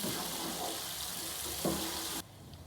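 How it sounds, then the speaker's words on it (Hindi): Garlic ginger paste frying with onions in oil in a home kitchen pan, a steady broadband sizzle running throughout with a brief clatter, then cutting off sharply near the end. "लहसुन अदरक का पेस्ट डाल दूँगी और साथ में इसे फ्राई करूँगी।"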